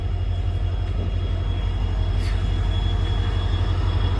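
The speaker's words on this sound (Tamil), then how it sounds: "நம்ம ட்ரெயினுக்கான லோக்கோ வந்தாச்சுங்க. டாடா இஸ் லோக்கோ WDP4 சூப்பராக இருக்கும்." A Tata WDP4 diesel locomotive arriving at a station, its deep engine throb rumbling steadily and fairly loud, with a faint high squeal briefly rising over the drone.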